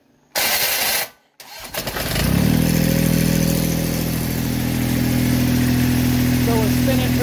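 Massey Ferguson GC2310 compact tractor with a damaged starter from an overcompressing cylinder, cranking after a brief burst of noise, then spinning the engine over in a steady, loud, sustained drone close by.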